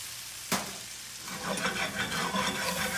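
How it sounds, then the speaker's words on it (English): Vinegar goes into a salmon dish in a hot iron skillet: a sharp splash, then the frying swells into a loud, crackling, bubbling sizzle that continues close up. "Now we're going to hit it with that really nice vinegar that's going to perfume the whole dish, and a generous amount of it."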